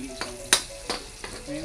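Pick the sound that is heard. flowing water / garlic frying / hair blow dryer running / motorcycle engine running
garlic frying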